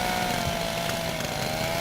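A chainsaw roars in the video game Little Inferno, a continuous dense buzzing drone at steady loudness throughout.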